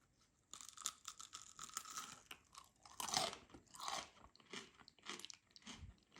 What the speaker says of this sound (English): let's listen to the crunch when I eat one.